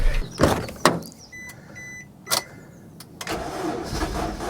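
A Suzuki Ignis race car engine cranks over and fires, with sharp mechanical bursts and a starter whirr followed by a rising idle, recorded close in a garage before a motorsport event.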